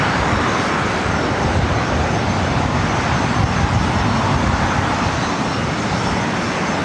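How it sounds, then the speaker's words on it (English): A Bombardier Challenger jet taking off from a runway at LAX, its engines a steady, loud, broadband roar that holds constant and close throughout. "See how quickly this Challenger takes off and lifts off the runway."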